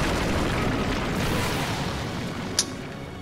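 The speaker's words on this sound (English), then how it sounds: "He hit me with a tail beast bomb" A tail beast bomb explosion in Naruto Shippuden Ultimate Ninja Storm 4 lands as a broad, sustained roaring boom that slowly fades, with one brief sharp pop near the end.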